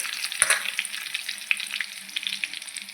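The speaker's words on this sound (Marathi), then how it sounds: "आता आपला लसूण पण छान प्रकारे परतून झालेला आहे" Garlic frying in oil in a pan for a vegetable dish, a steady close crackling sizzle with small pops and a few stirring scrapes, no talking.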